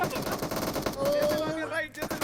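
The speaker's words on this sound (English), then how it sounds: "I shoot Jason" Rapid automatic gunfire from the BGMI battle royale game during a faceoff event, a dense rattling burst near and loud, with players' voices calling out in the background.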